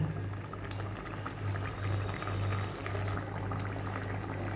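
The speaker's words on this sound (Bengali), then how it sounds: "এটা আরও আমি 3 মিনিট মতন একটু ফুটিয়ে নেব।" Tangra fish curry bubbles over a gas flame, a steady close simmering burble with faint low rumbling, continuous throughout and with no talk.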